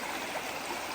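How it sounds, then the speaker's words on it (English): A small creek runs over rocks beside a trail on a morning hike, a steady close hiss of flowing water with no voices. "Here's our first little creek this morning."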